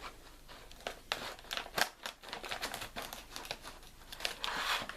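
Close, busy crinkling and tearing of cardboard and plastic as a Playmobil box for the Cheval ardent knight's jousting set 5357 is opened, irregular rustles and snaps throughout, no talking.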